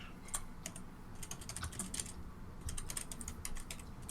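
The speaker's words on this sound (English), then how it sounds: "It's a lot of typing there." Rapid, irregular keystrokes on a computer keyboard clatter close by for the whole stretch, with a low steady room hum underneath and no voices.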